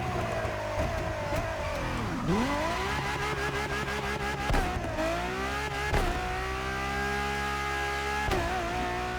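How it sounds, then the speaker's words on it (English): A simulated race car engine in The Crew Motorfest revs hard and rises through gears, tires spinning and squealing, loud and continuous with repeated shifts, no talking. "I had so much wheel spin"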